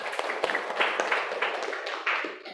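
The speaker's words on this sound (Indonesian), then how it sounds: "Tepuk tangan untuk Arkan." Classmates in an Indonesian primary-school lesson clap for a pupil who answered correctly, a dense, uneven patter of many small hands filling the room at moderate level, with faint voices mixed in.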